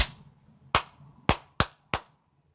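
Five sharp hand claps, loud and close, the first alone and then four more in an uneven rhythm with short gaps, each ending in a quick room echo, with no talking.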